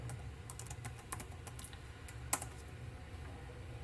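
Typing on a computer keyboard, a quick irregular run of soft clicks and key taps with one sharper keystroke near the end, close by and fairly quiet over light background hiss.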